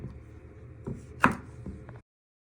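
Knife trimming green beans on a cutting board for a prawn and green bean stew, a few soft close taps and one sharper chop in the middle against quiet kitchen background, then silence.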